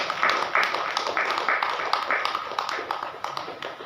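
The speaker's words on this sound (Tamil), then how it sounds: "கைதட்டுங்களா பார்ப்போம்" An audience clapping hands at a Tamil Christian sermon: a steady, moderately loud patter of many hands, with faint speech in the background.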